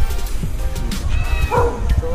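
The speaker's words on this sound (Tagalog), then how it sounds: "May aso." A dog gives a few short, yipping barks close by at a hot and cold spring facility, with some whimpering tones and a voice murmuring briefly in the background.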